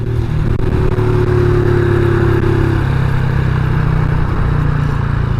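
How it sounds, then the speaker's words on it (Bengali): A motorcycle engine runs loud and close, revving unevenly with a steady rumble that drops partway as the bike struggles to pick up and begins to stall. "অটোমেটিকলি বাইক বন্ধ হয়ে যেতেছে গা এই যে পিক আপ দিতেছি পিক আপও নিতেছে না"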